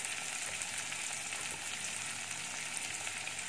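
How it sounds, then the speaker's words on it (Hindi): Chopped onion, green chili, ginger and garlic frying in a pan, a steady close sizzle that stays even throughout with no voices. "प्याज सबको हमने डाल दिया है, अच्छे से हम फ्राई कर देंगे इसको।"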